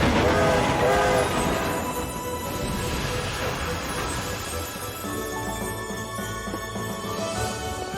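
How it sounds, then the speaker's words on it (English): An animated cartoon steam train pulls away from the station, with rumbling rail noise and a whistle-like tonal blast near the start, then a steady running hum. "The train's going without us."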